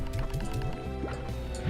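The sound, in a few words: water shot onto slimes in the video game Slime Rancher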